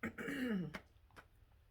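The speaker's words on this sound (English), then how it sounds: "I had to start coughing again" One rough, throaty cough is followed by a couple of faint, short follow-up sounds, heard alone and fairly quiet.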